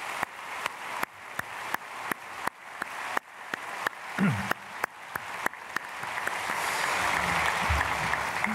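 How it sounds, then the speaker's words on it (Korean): A church congregation at a Sunday worship service applauds to welcome newly registered members, starting with spaced rhythmic claps that swell into dense, loud sustained applause filling the hall. "우리 크게 박수로 환영하겠습니다."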